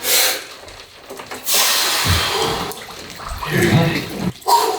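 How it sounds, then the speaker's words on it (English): A person lowering into an ice bath cold plunge filled with about 40 pounds of ice, with close sloshing and splashing water and loud breathy gasps, steady throughout. "About to get into some bro science cold plunge here."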